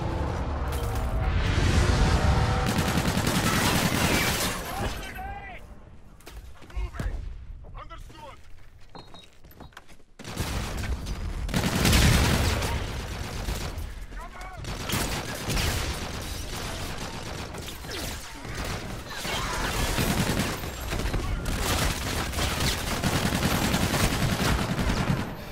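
Aircraft cannon fire during a gun run in Call of Duty: Infinite Warfare, long loud bursts of rapid gunfire with heavy rumble, a brief lull midway, then sustained firing again, with radio voices speaking over the action.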